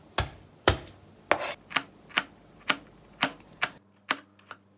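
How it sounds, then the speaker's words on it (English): Five garlic cloves are sliced with a knife on a board, about eleven sharp, close chops in an even steady rhythm, each a crisp thud-click standing alone in a quiet room. "I've got 5 cloves of garlic, which we're going to just be slicing"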